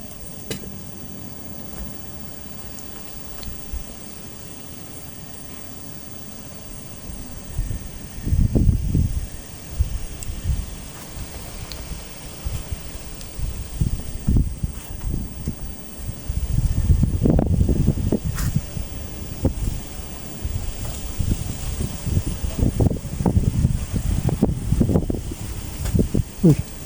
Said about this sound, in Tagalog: Grabe lakas ang hangin dito